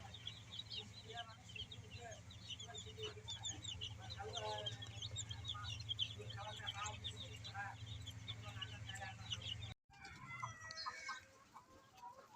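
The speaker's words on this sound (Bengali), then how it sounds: "এই তো লিয়ার মুরগি দেখতেছেন" Layer hens on a poultry farm cluck and chatter steadily at moderate distance over a constant low mechanical hum, with a brief cut near the end before the clucking resumes.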